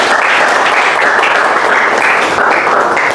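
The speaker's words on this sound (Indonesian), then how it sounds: "silakan beri tepuk tangan dulu untuk temannya yang sudah presentasi" A classroom of students applauds their presenting classmates, loud dense clapping held steadily throughout.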